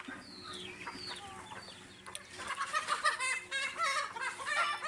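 Several chickens cluck and chatter nearby, with a rooster's calls mixed in, the clucking growing busier and louder in the second half.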